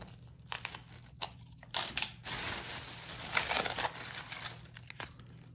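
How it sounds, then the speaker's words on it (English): Vintage clip-on earrings being pulled off cardboard display cards, giving bursts of crinkling, scraping and tearing, loud and close, with quieter pauses between them and no speech. "I'm just taking one of these off the backs just so we're not here forever, off the cards I mean."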